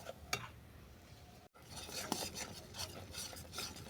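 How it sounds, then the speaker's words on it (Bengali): Pabda fish bone mash being stirred and fried down in a pan, with scraping spatula strokes and a soft sizzle that carry on steadily with a brief gap partway through. "এরপর এটাকে আমি ভালো করে কষিয়ে নেব"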